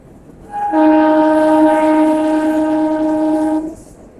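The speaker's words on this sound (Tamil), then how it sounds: "Train சாசன்கிர்லேருந்து கிளம்பிச்சு guys." A metre gauge train departing from Sasan Gir in Gujarat sounds a loud, steady multi-tone horn, held for about three seconds before cutting off.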